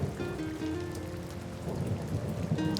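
Steady rain falls with a dense, continuous patter, fairly close, and a low rumble underneath; no voices.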